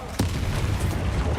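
A Confringo fire spell explodes in the Hogwarts Legacy video game: a sharp blast followed by a sustained, loud, low rumbling boom that carries on under other game noise.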